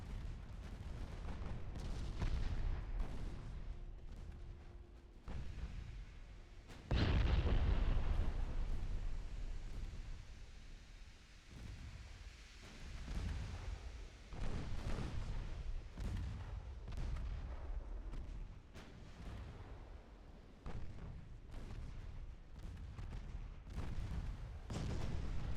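Naval gunfire from the warship battle game Ultimate Admiral Dreadnoughts: repeated deep booms of heavy guns, with one large blast standing out, over a continuous low rumble.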